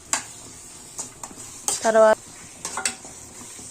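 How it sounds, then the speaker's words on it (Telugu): Prawns and chili powder are stirred in a pan, with scraping spoon strokes against the metal and a light sizzle under a few spoken words from a woman, close up. "కారం వేసి ఒకసారి బాగా కలుపుకోవాలి."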